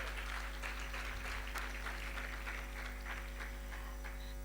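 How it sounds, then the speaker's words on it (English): A roomful of attendees at a women-in-sport dialogue in Gauteng applauds themselves, a continuous, even wash of many hands clapping at moderate distance over a low electrical hum, holding steady throughout. "So can you please give yourselves a round of applause?"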